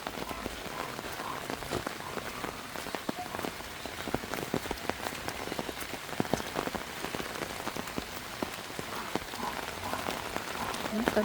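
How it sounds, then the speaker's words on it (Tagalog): Steady rain pours down around flooded pig pens, a dense continuous patter of drops striking surfaces with scattered sharper splashes, constant and fairly close throughout. "Umuulan mga kajali."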